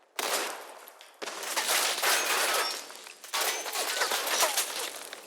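Fallout 4 gameplay with a frag grenade and gunfire: three loud, sustained bursts of rapid shots and blasts, separated by brief gaps, with no one talking.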